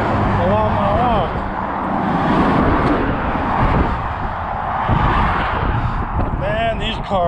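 Cars rushing past on a road in Navajo County, Arizona, a loud, continuous roadside roar of traffic swelling and fading as vehicles pass close by, with a brief tonal squeal at the start and end.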